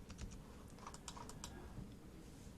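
Computer keyboard keys are pressed in a quick, uneven cluster of soft clicks that fades to quiet near the end, close and fairly faint.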